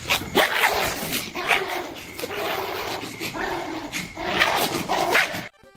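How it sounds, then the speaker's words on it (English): A Chihuahua barks repeatedly in sharp, yappy bursts, close and loud, with brief whimpering between bouts and occasional faint voices in the background. "This is an accurate video of how a Chihuahua would react if you told it to go away."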